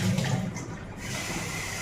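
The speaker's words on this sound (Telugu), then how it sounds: "బియ్యం కలుగుతున్నాను" Rice being washed in water in a home kitchen, heard as a continuous close slosh and rush of water, steady and unbroken throughout.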